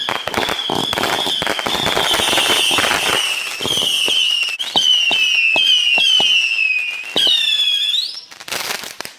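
Fireworks shot off from a distance burst in a rapid series of sharp crackling bangs, with whistling, rising tones streaking through the volley and a final cluster of pops near the end.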